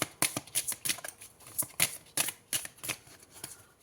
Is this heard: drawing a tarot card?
yes